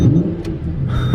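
A 6.5-liter V12 in a Lamborghini Reventon firing up, a deep, loud engine rumble that swells into a brief rev near the end, close by with no talk.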